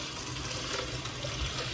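Cool water pouring into a basin around a pot for strawberry winemaking, a steady quiet splashing gush lasting under two seconds with no talk.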